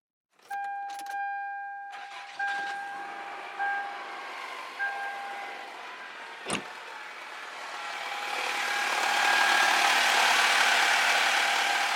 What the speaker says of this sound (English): hopefully the car starts.